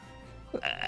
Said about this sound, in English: I actually genuinely burped.